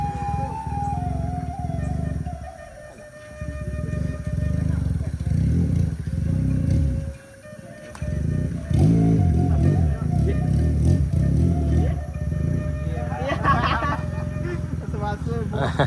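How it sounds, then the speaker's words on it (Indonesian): A big motorbike passing on the Pessel–Solok road: a loud, deep engine rumble fills the scene, dipping briefly and swelling again as it goes by, with people talking over it. "Moge pun bisa lewat."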